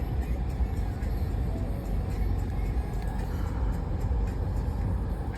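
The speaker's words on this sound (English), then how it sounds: "there's a lot of traffic right now" Road traffic heard from inside a car in Fort Pierce, a steady low rumble of tires and engines with a broad wash of passing-vehicle noise, constant and moderately quiet, with no talking.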